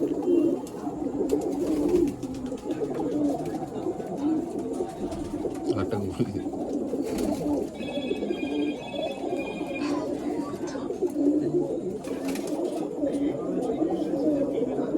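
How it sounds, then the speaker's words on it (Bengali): Breeder pigeons of Golden Zirya and Kaldama bloodlines coo and murmur continuously at close range, a steady soft throaty bed with people talking over it throughout. "তোরা সবই আমার ব্রিডার পায়রা অ্যাকচুয়ালি"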